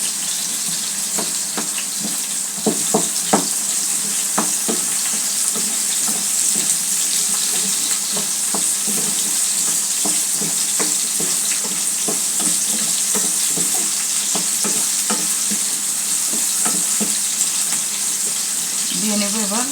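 Finely chopped garlic fries in oil in a home kitchen, a continuous hissing sizzle with scattered crackles and occasional stirring clicks, steady and close throughout.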